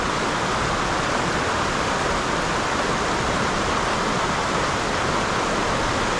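River rapids at a spillway produce a steady, loud, close rush of churning water that fills the whole stretch without a break.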